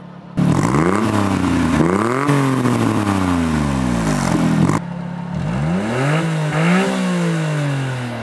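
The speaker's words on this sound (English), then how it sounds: "You can crank this thing without your foot on the clutch." A Honda Beat's small engine abruptly catches and fires up, then revs up and down several times, loud and close, with rattling clatter underneath.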